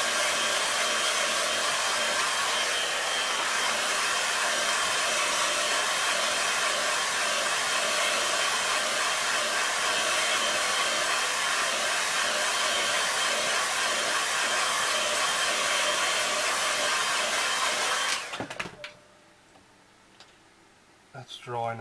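Hair dryer blowing steadily and loudly at close range over a damp watercolor landscape painting, a continuous whoosh lasting about eighteen seconds before switching off into near quiet.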